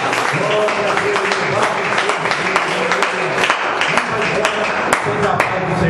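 A church congregation claps steadily and loudly for several seconds, a dense patter of hands filling the space.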